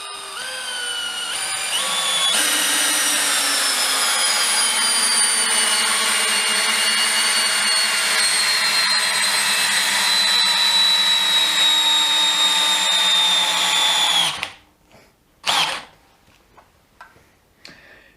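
A DEWALT DCD701 12V brushless drill runs in first speed with a sustained high motor whine and gear hum for about twelve seconds, then cuts off, followed by a few short clicks and bursts.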